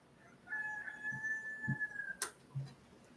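A rooster crows at dawn outdoors, one long drawn-out call carrying faintly over a quiet background, followed by a brief sharp knock and scattered low sounds.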